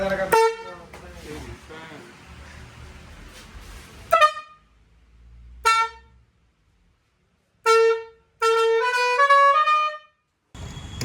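A truck horn fitted on a motorcycle blares loud, harmonic blasts near the listener: a long opening honk, then short toots and a final longer tone, with quiet gaps between them.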